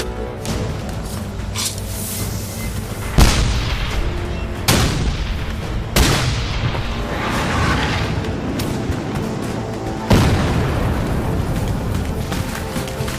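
A Civil War-era cannon firing 12-pound solid iron cannonballs with gunpowder charges at Gettysburg: four heavy booms spaced several seconds apart, each with a long rolling decay over a dense, rumbling background.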